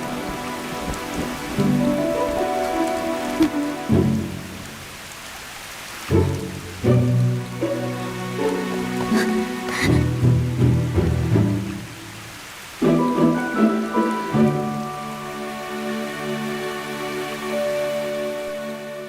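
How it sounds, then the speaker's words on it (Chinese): Steady rain pours down throughout a period drama scene, a continuous hiss of drops on surfaces running under a swelling musical score, with no thunder or voices standing out. "还在下雨呢。"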